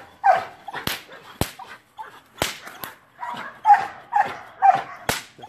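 Hunting and bite-training dog barking in sharp repeated bursts, mixed with loud whip cracks, close and energetic, with occasional whimpers between barks.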